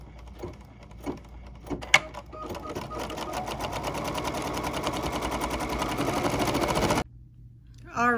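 A sewing machine stitching a red belt for small swimwear breeches starts with a few clicks and knocks, then runs in a steady rapid whirring drone for several seconds before stopping abruptly.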